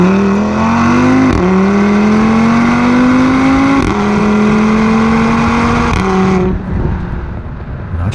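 A Stage 2 tuned Audi TT RS with a downpipe, making over 520 hp, accelerates hard in manual mode. The engine note climbs loud and close through three rising pulls, each cut by a quick upshift, and eases off at the end.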